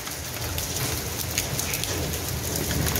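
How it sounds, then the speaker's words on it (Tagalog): Hail falls with a downpour of heavy rain onto a garden of flowering plants, a loud, dense, steady roar of drops with sharper ice pellets striking and clattering through it. "Dalaglag ng yelo. Ang dami."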